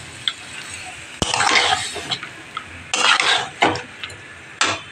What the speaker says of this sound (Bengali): এই দেখো এবার ভালো করে কষাচ্ছি, মনে হচ্ছে মাংস রান্না করছি